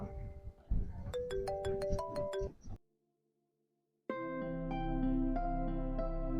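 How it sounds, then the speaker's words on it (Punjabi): A mobile phone plays a bright, melodic ringtone, breaks off into about a second of silence, then resumes as a fuller, louder sustained tone. "ਕਿਦਾ ਫੋਨ ਜਾਂਦਾ"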